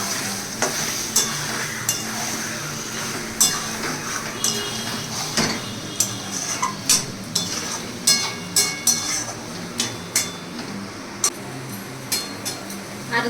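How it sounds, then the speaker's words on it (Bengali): Lote fish (Bombay duck) is stirred with mustard oil in a pan, with a steady series of spatula scrapes and light metallic clinks against the pan over a continuous frying sizzle, close and clear. "আবার একটু নেড়ে দেব।"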